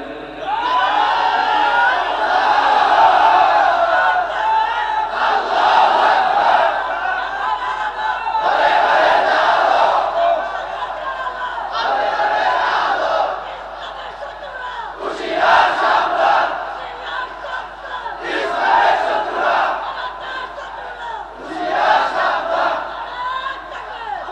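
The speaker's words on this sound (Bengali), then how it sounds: "তাকবীর একটু জোরে দেন তো, নারায়ে তাকবীর জোরে দেন" A large gathering at an Islamic religious sermon chants Nara-e-Takbir in loud, rhythmic call-and-response bursts, repeated roughly every few seconds with brief pauses between the roars.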